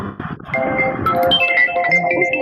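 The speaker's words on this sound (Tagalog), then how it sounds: "Ganda ng ringtone ni number 8." A phone ringtone plays in the Weplay party game for player number 8, a bright melodic electronic tune with sustained tones rising over a short burst of muffled sound at the start.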